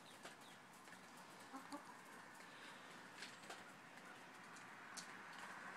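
Chickens cluck softly while eating wild bird feed with black sunflower seeds, a steady murmur of small clucks over a busy outdoor hiss.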